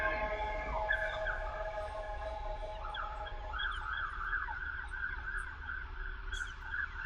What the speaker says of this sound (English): London, sirens. This is firefighters.